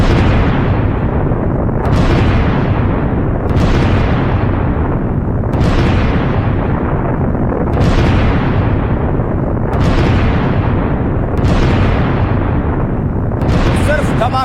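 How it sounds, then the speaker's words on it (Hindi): Military strikes set off a rapid series of heavy, booming explosions, about one every two seconds. Each blast is loud and rolls into a decaying rumble before the next one hits. "सिर्फ धमाके ही धमाके सुन रहे हैं आप।"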